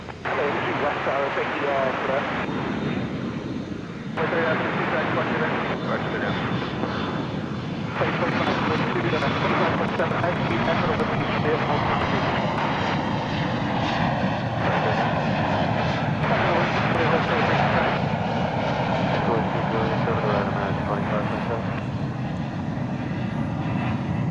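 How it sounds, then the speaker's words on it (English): Airplanes at DFW Airport rumble and roar steadily as aircraft engines pass one after another, a loud continuous drone that swells and shifts over time, with radio chatter faintly underneath. "It's just a parade of planes now."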